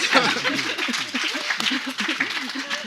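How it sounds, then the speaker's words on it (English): Audience applause at a live comedy-style talk show, a steady wash of clapping with some chuckles mixed in, moderately loud and continuous throughout. "Please don't applaud that."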